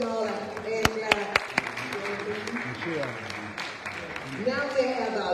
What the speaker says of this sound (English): Can we just give them all a hand clap?